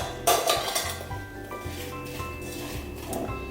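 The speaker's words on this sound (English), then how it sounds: "I'm just going to give that a stir." Rhubarb with honey and sugar gets stirred in a pot, a spoon scraping and clinking against the sides in uneven strokes, fairly close and alone.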